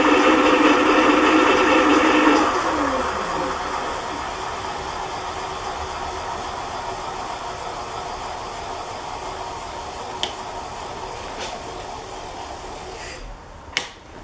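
Troxus Lynx (Explorer) electric bike motor on throttle only, running up to 20 mph, a steady whirring whine with a pitch that sweeps during the first seconds, then settles into a constant drone ending in a few clicks.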